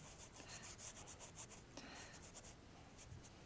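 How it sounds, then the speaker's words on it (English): Sandpaper rubs against a surface to create effects, producing quick, faint scratchy strokes in an irregular back-and-forth rhythm, close and quiet. "So for that, I have this sanding paper."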